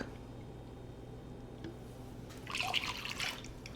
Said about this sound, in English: When you add in 1 cup of heavy cream, 1 cup of whole milk,